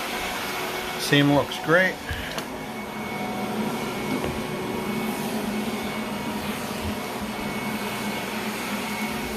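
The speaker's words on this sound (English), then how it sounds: "Okay, so we're vacuuming up." Vacuum cleaner running over newly installed carpet, a steady, loud whooshing drone that continues without a break. Someone speaks briefly near the start.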